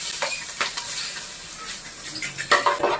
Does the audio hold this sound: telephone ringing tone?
no